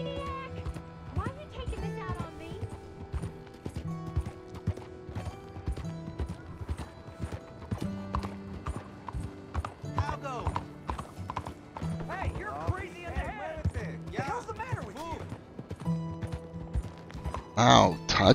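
Horse hooves clip-clop in Red Dead Redemption 2, a steady rhythm of hoof falls running under game music and spoken dialogue throughout, with a louder burst near the end.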